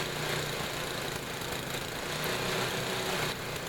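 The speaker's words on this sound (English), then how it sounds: "Now this is about as low of an idle as I could get out of the engine and have it still run." A Tecumseh small engine idles at a very low idle, giving a steady close putter that keeps going on its own with no talking.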